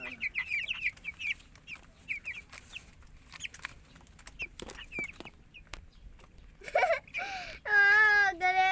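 A pet chicken clucks in short repeated bursts close by, with soft scattered pecking taps in between, and a louder drawn-out squawk near the end; a person talks briefly at a low level.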